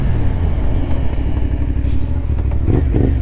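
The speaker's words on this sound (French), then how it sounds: "maintenant on va se tester le freinage combiné" A CFMOTO 450SR sport motorcycle from 2024 runs loud and close during a combined braking test, its engine drone and road rumble steady throughout with some clatter near the end.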